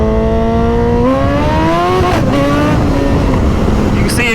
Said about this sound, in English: The quick shifters on these bikes sound so good.